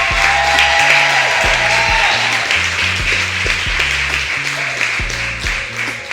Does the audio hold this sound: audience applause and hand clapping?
yes